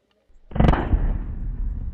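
A single loud, close shotgun blast aimed at a Tesla Cybertruck, a sharp broadband crack followed by a long rolling echo that fades slowly outdoors.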